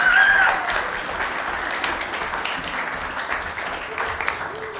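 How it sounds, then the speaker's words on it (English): Audience applause for a high school valedictorian at a city council meeting, a loud burst of many hands clapping that starts strong and settles into a steady, slightly fading patter, with a brief whistle-like tone at the start. "Huge round of applause for that."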